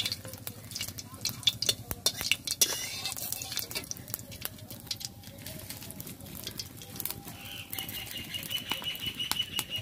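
Whole cumin seeds and dried red chilli frying in a pan, a steady low sizzle with intermittent stirring scrapes and clinks of a utensil throughout.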